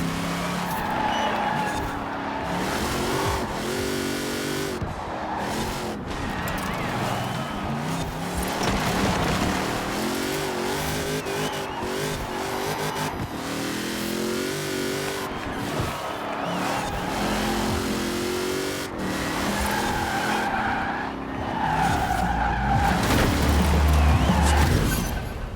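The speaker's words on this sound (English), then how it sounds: "When I want to drift, it drifts." A GMC Typhoon drifting in a wintry Forza Horizon 4 race game: continuous loud engine roar rising and falling with shifts, mixed with tire squeal and skidding through slides, sustained throughout.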